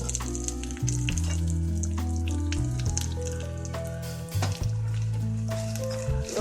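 Curry leaves and green chillies dropped into hot oil for a tempering, crackling and sizzling loudly and steadily close by with brief bursts of spitting, no voices.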